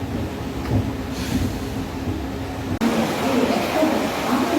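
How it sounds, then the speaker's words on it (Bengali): The Kamrup Express rolls into NJP railway station, a steady rumbling train noise heard from inside with a low hum, faint rail clatter and a brief jolt near the end. "এলজেপিতে ট্রেন ইন করলো"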